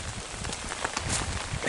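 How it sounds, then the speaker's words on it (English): A light drizzle of rain on a shore walk, a steady, even patter of small drops with soft scattered ticks close by, with no voices. "it's sprinkling right now. It's a drizzle."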